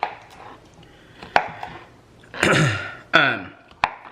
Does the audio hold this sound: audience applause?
no